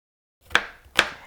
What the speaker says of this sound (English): For all the smaller inner pieces, I'm just going to slice them up real quick and add them to my sliced onions